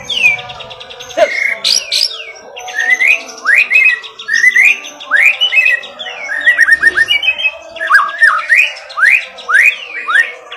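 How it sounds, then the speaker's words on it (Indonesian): A canary sings alone and close, pouring out rapid trills, whistles and bright chirping phrases in bursts that continue steadily with only brief pauses. "Kenari bro."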